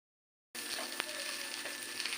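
Jackfruit patori parcels frying slowly in a pan on very low heat, with a steady close sizzle and crackle starting abruptly after half a second of silence and holding evenly, with small pops.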